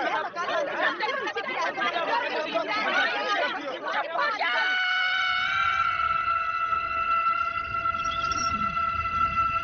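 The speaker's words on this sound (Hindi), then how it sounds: "मेरा चिल्लाना सुना तुमने?" A woman lets out a long, loud, sustained scream in a Hindi-dubbed comedy film scene from Kung Fu Hustle, cutting in after excited overlapping chatter and holding steady to the end.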